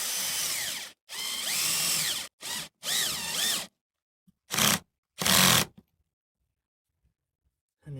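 A power drill tightens a screw while a security floodlight is mounted, sounding in several short whirring bursts separated by pauses, close and fairly loud, with the last bursts briefer.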